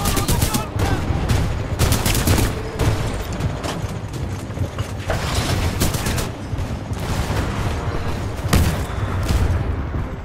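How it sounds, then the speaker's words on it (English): Rapid bursts of gunfire from Titanfall 2 play loud and continuous, with overlapping automatic shots and booms layered together, along with faint game voices in the mix. "while those guns are firing"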